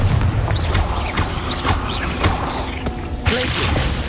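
Repeated fire-blast spell casts from the Hogwarts Legacy video game, a series of sharp booming bursts with whooshing tails recurring about every half second inside a cave, loud and layered over game ambience.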